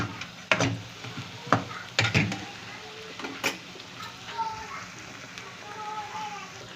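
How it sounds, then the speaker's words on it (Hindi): Onions fry in hot oil in a pan, with a soft steady sizzle broken by a few sharp scrapes and clinks of a stirring spoon, and someone talks over it. "तो थोड़ा सा 5 मिनट और हम इसको भूनेंगे तेल में।"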